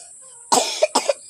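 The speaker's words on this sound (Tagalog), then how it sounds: "Ubo na niya." Two sharp coughs ring out close by, about half a second apart, each trailing off quickly in an otherwise quiet room.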